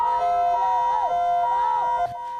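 An ambulance siren wails loudly and close in street traffic at a Taiwan bridgehead, its rising and falling tone sweeping steadily for about two seconds before cutting off abruptly.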